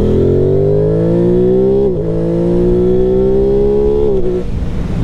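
Aprilia Tuono 660 Factory motorcycle engine revving up steadily and loudly close by, pitch climbing in two long pulls with a brief dip near the two-second mark and a gear-change drop near the end, no talk.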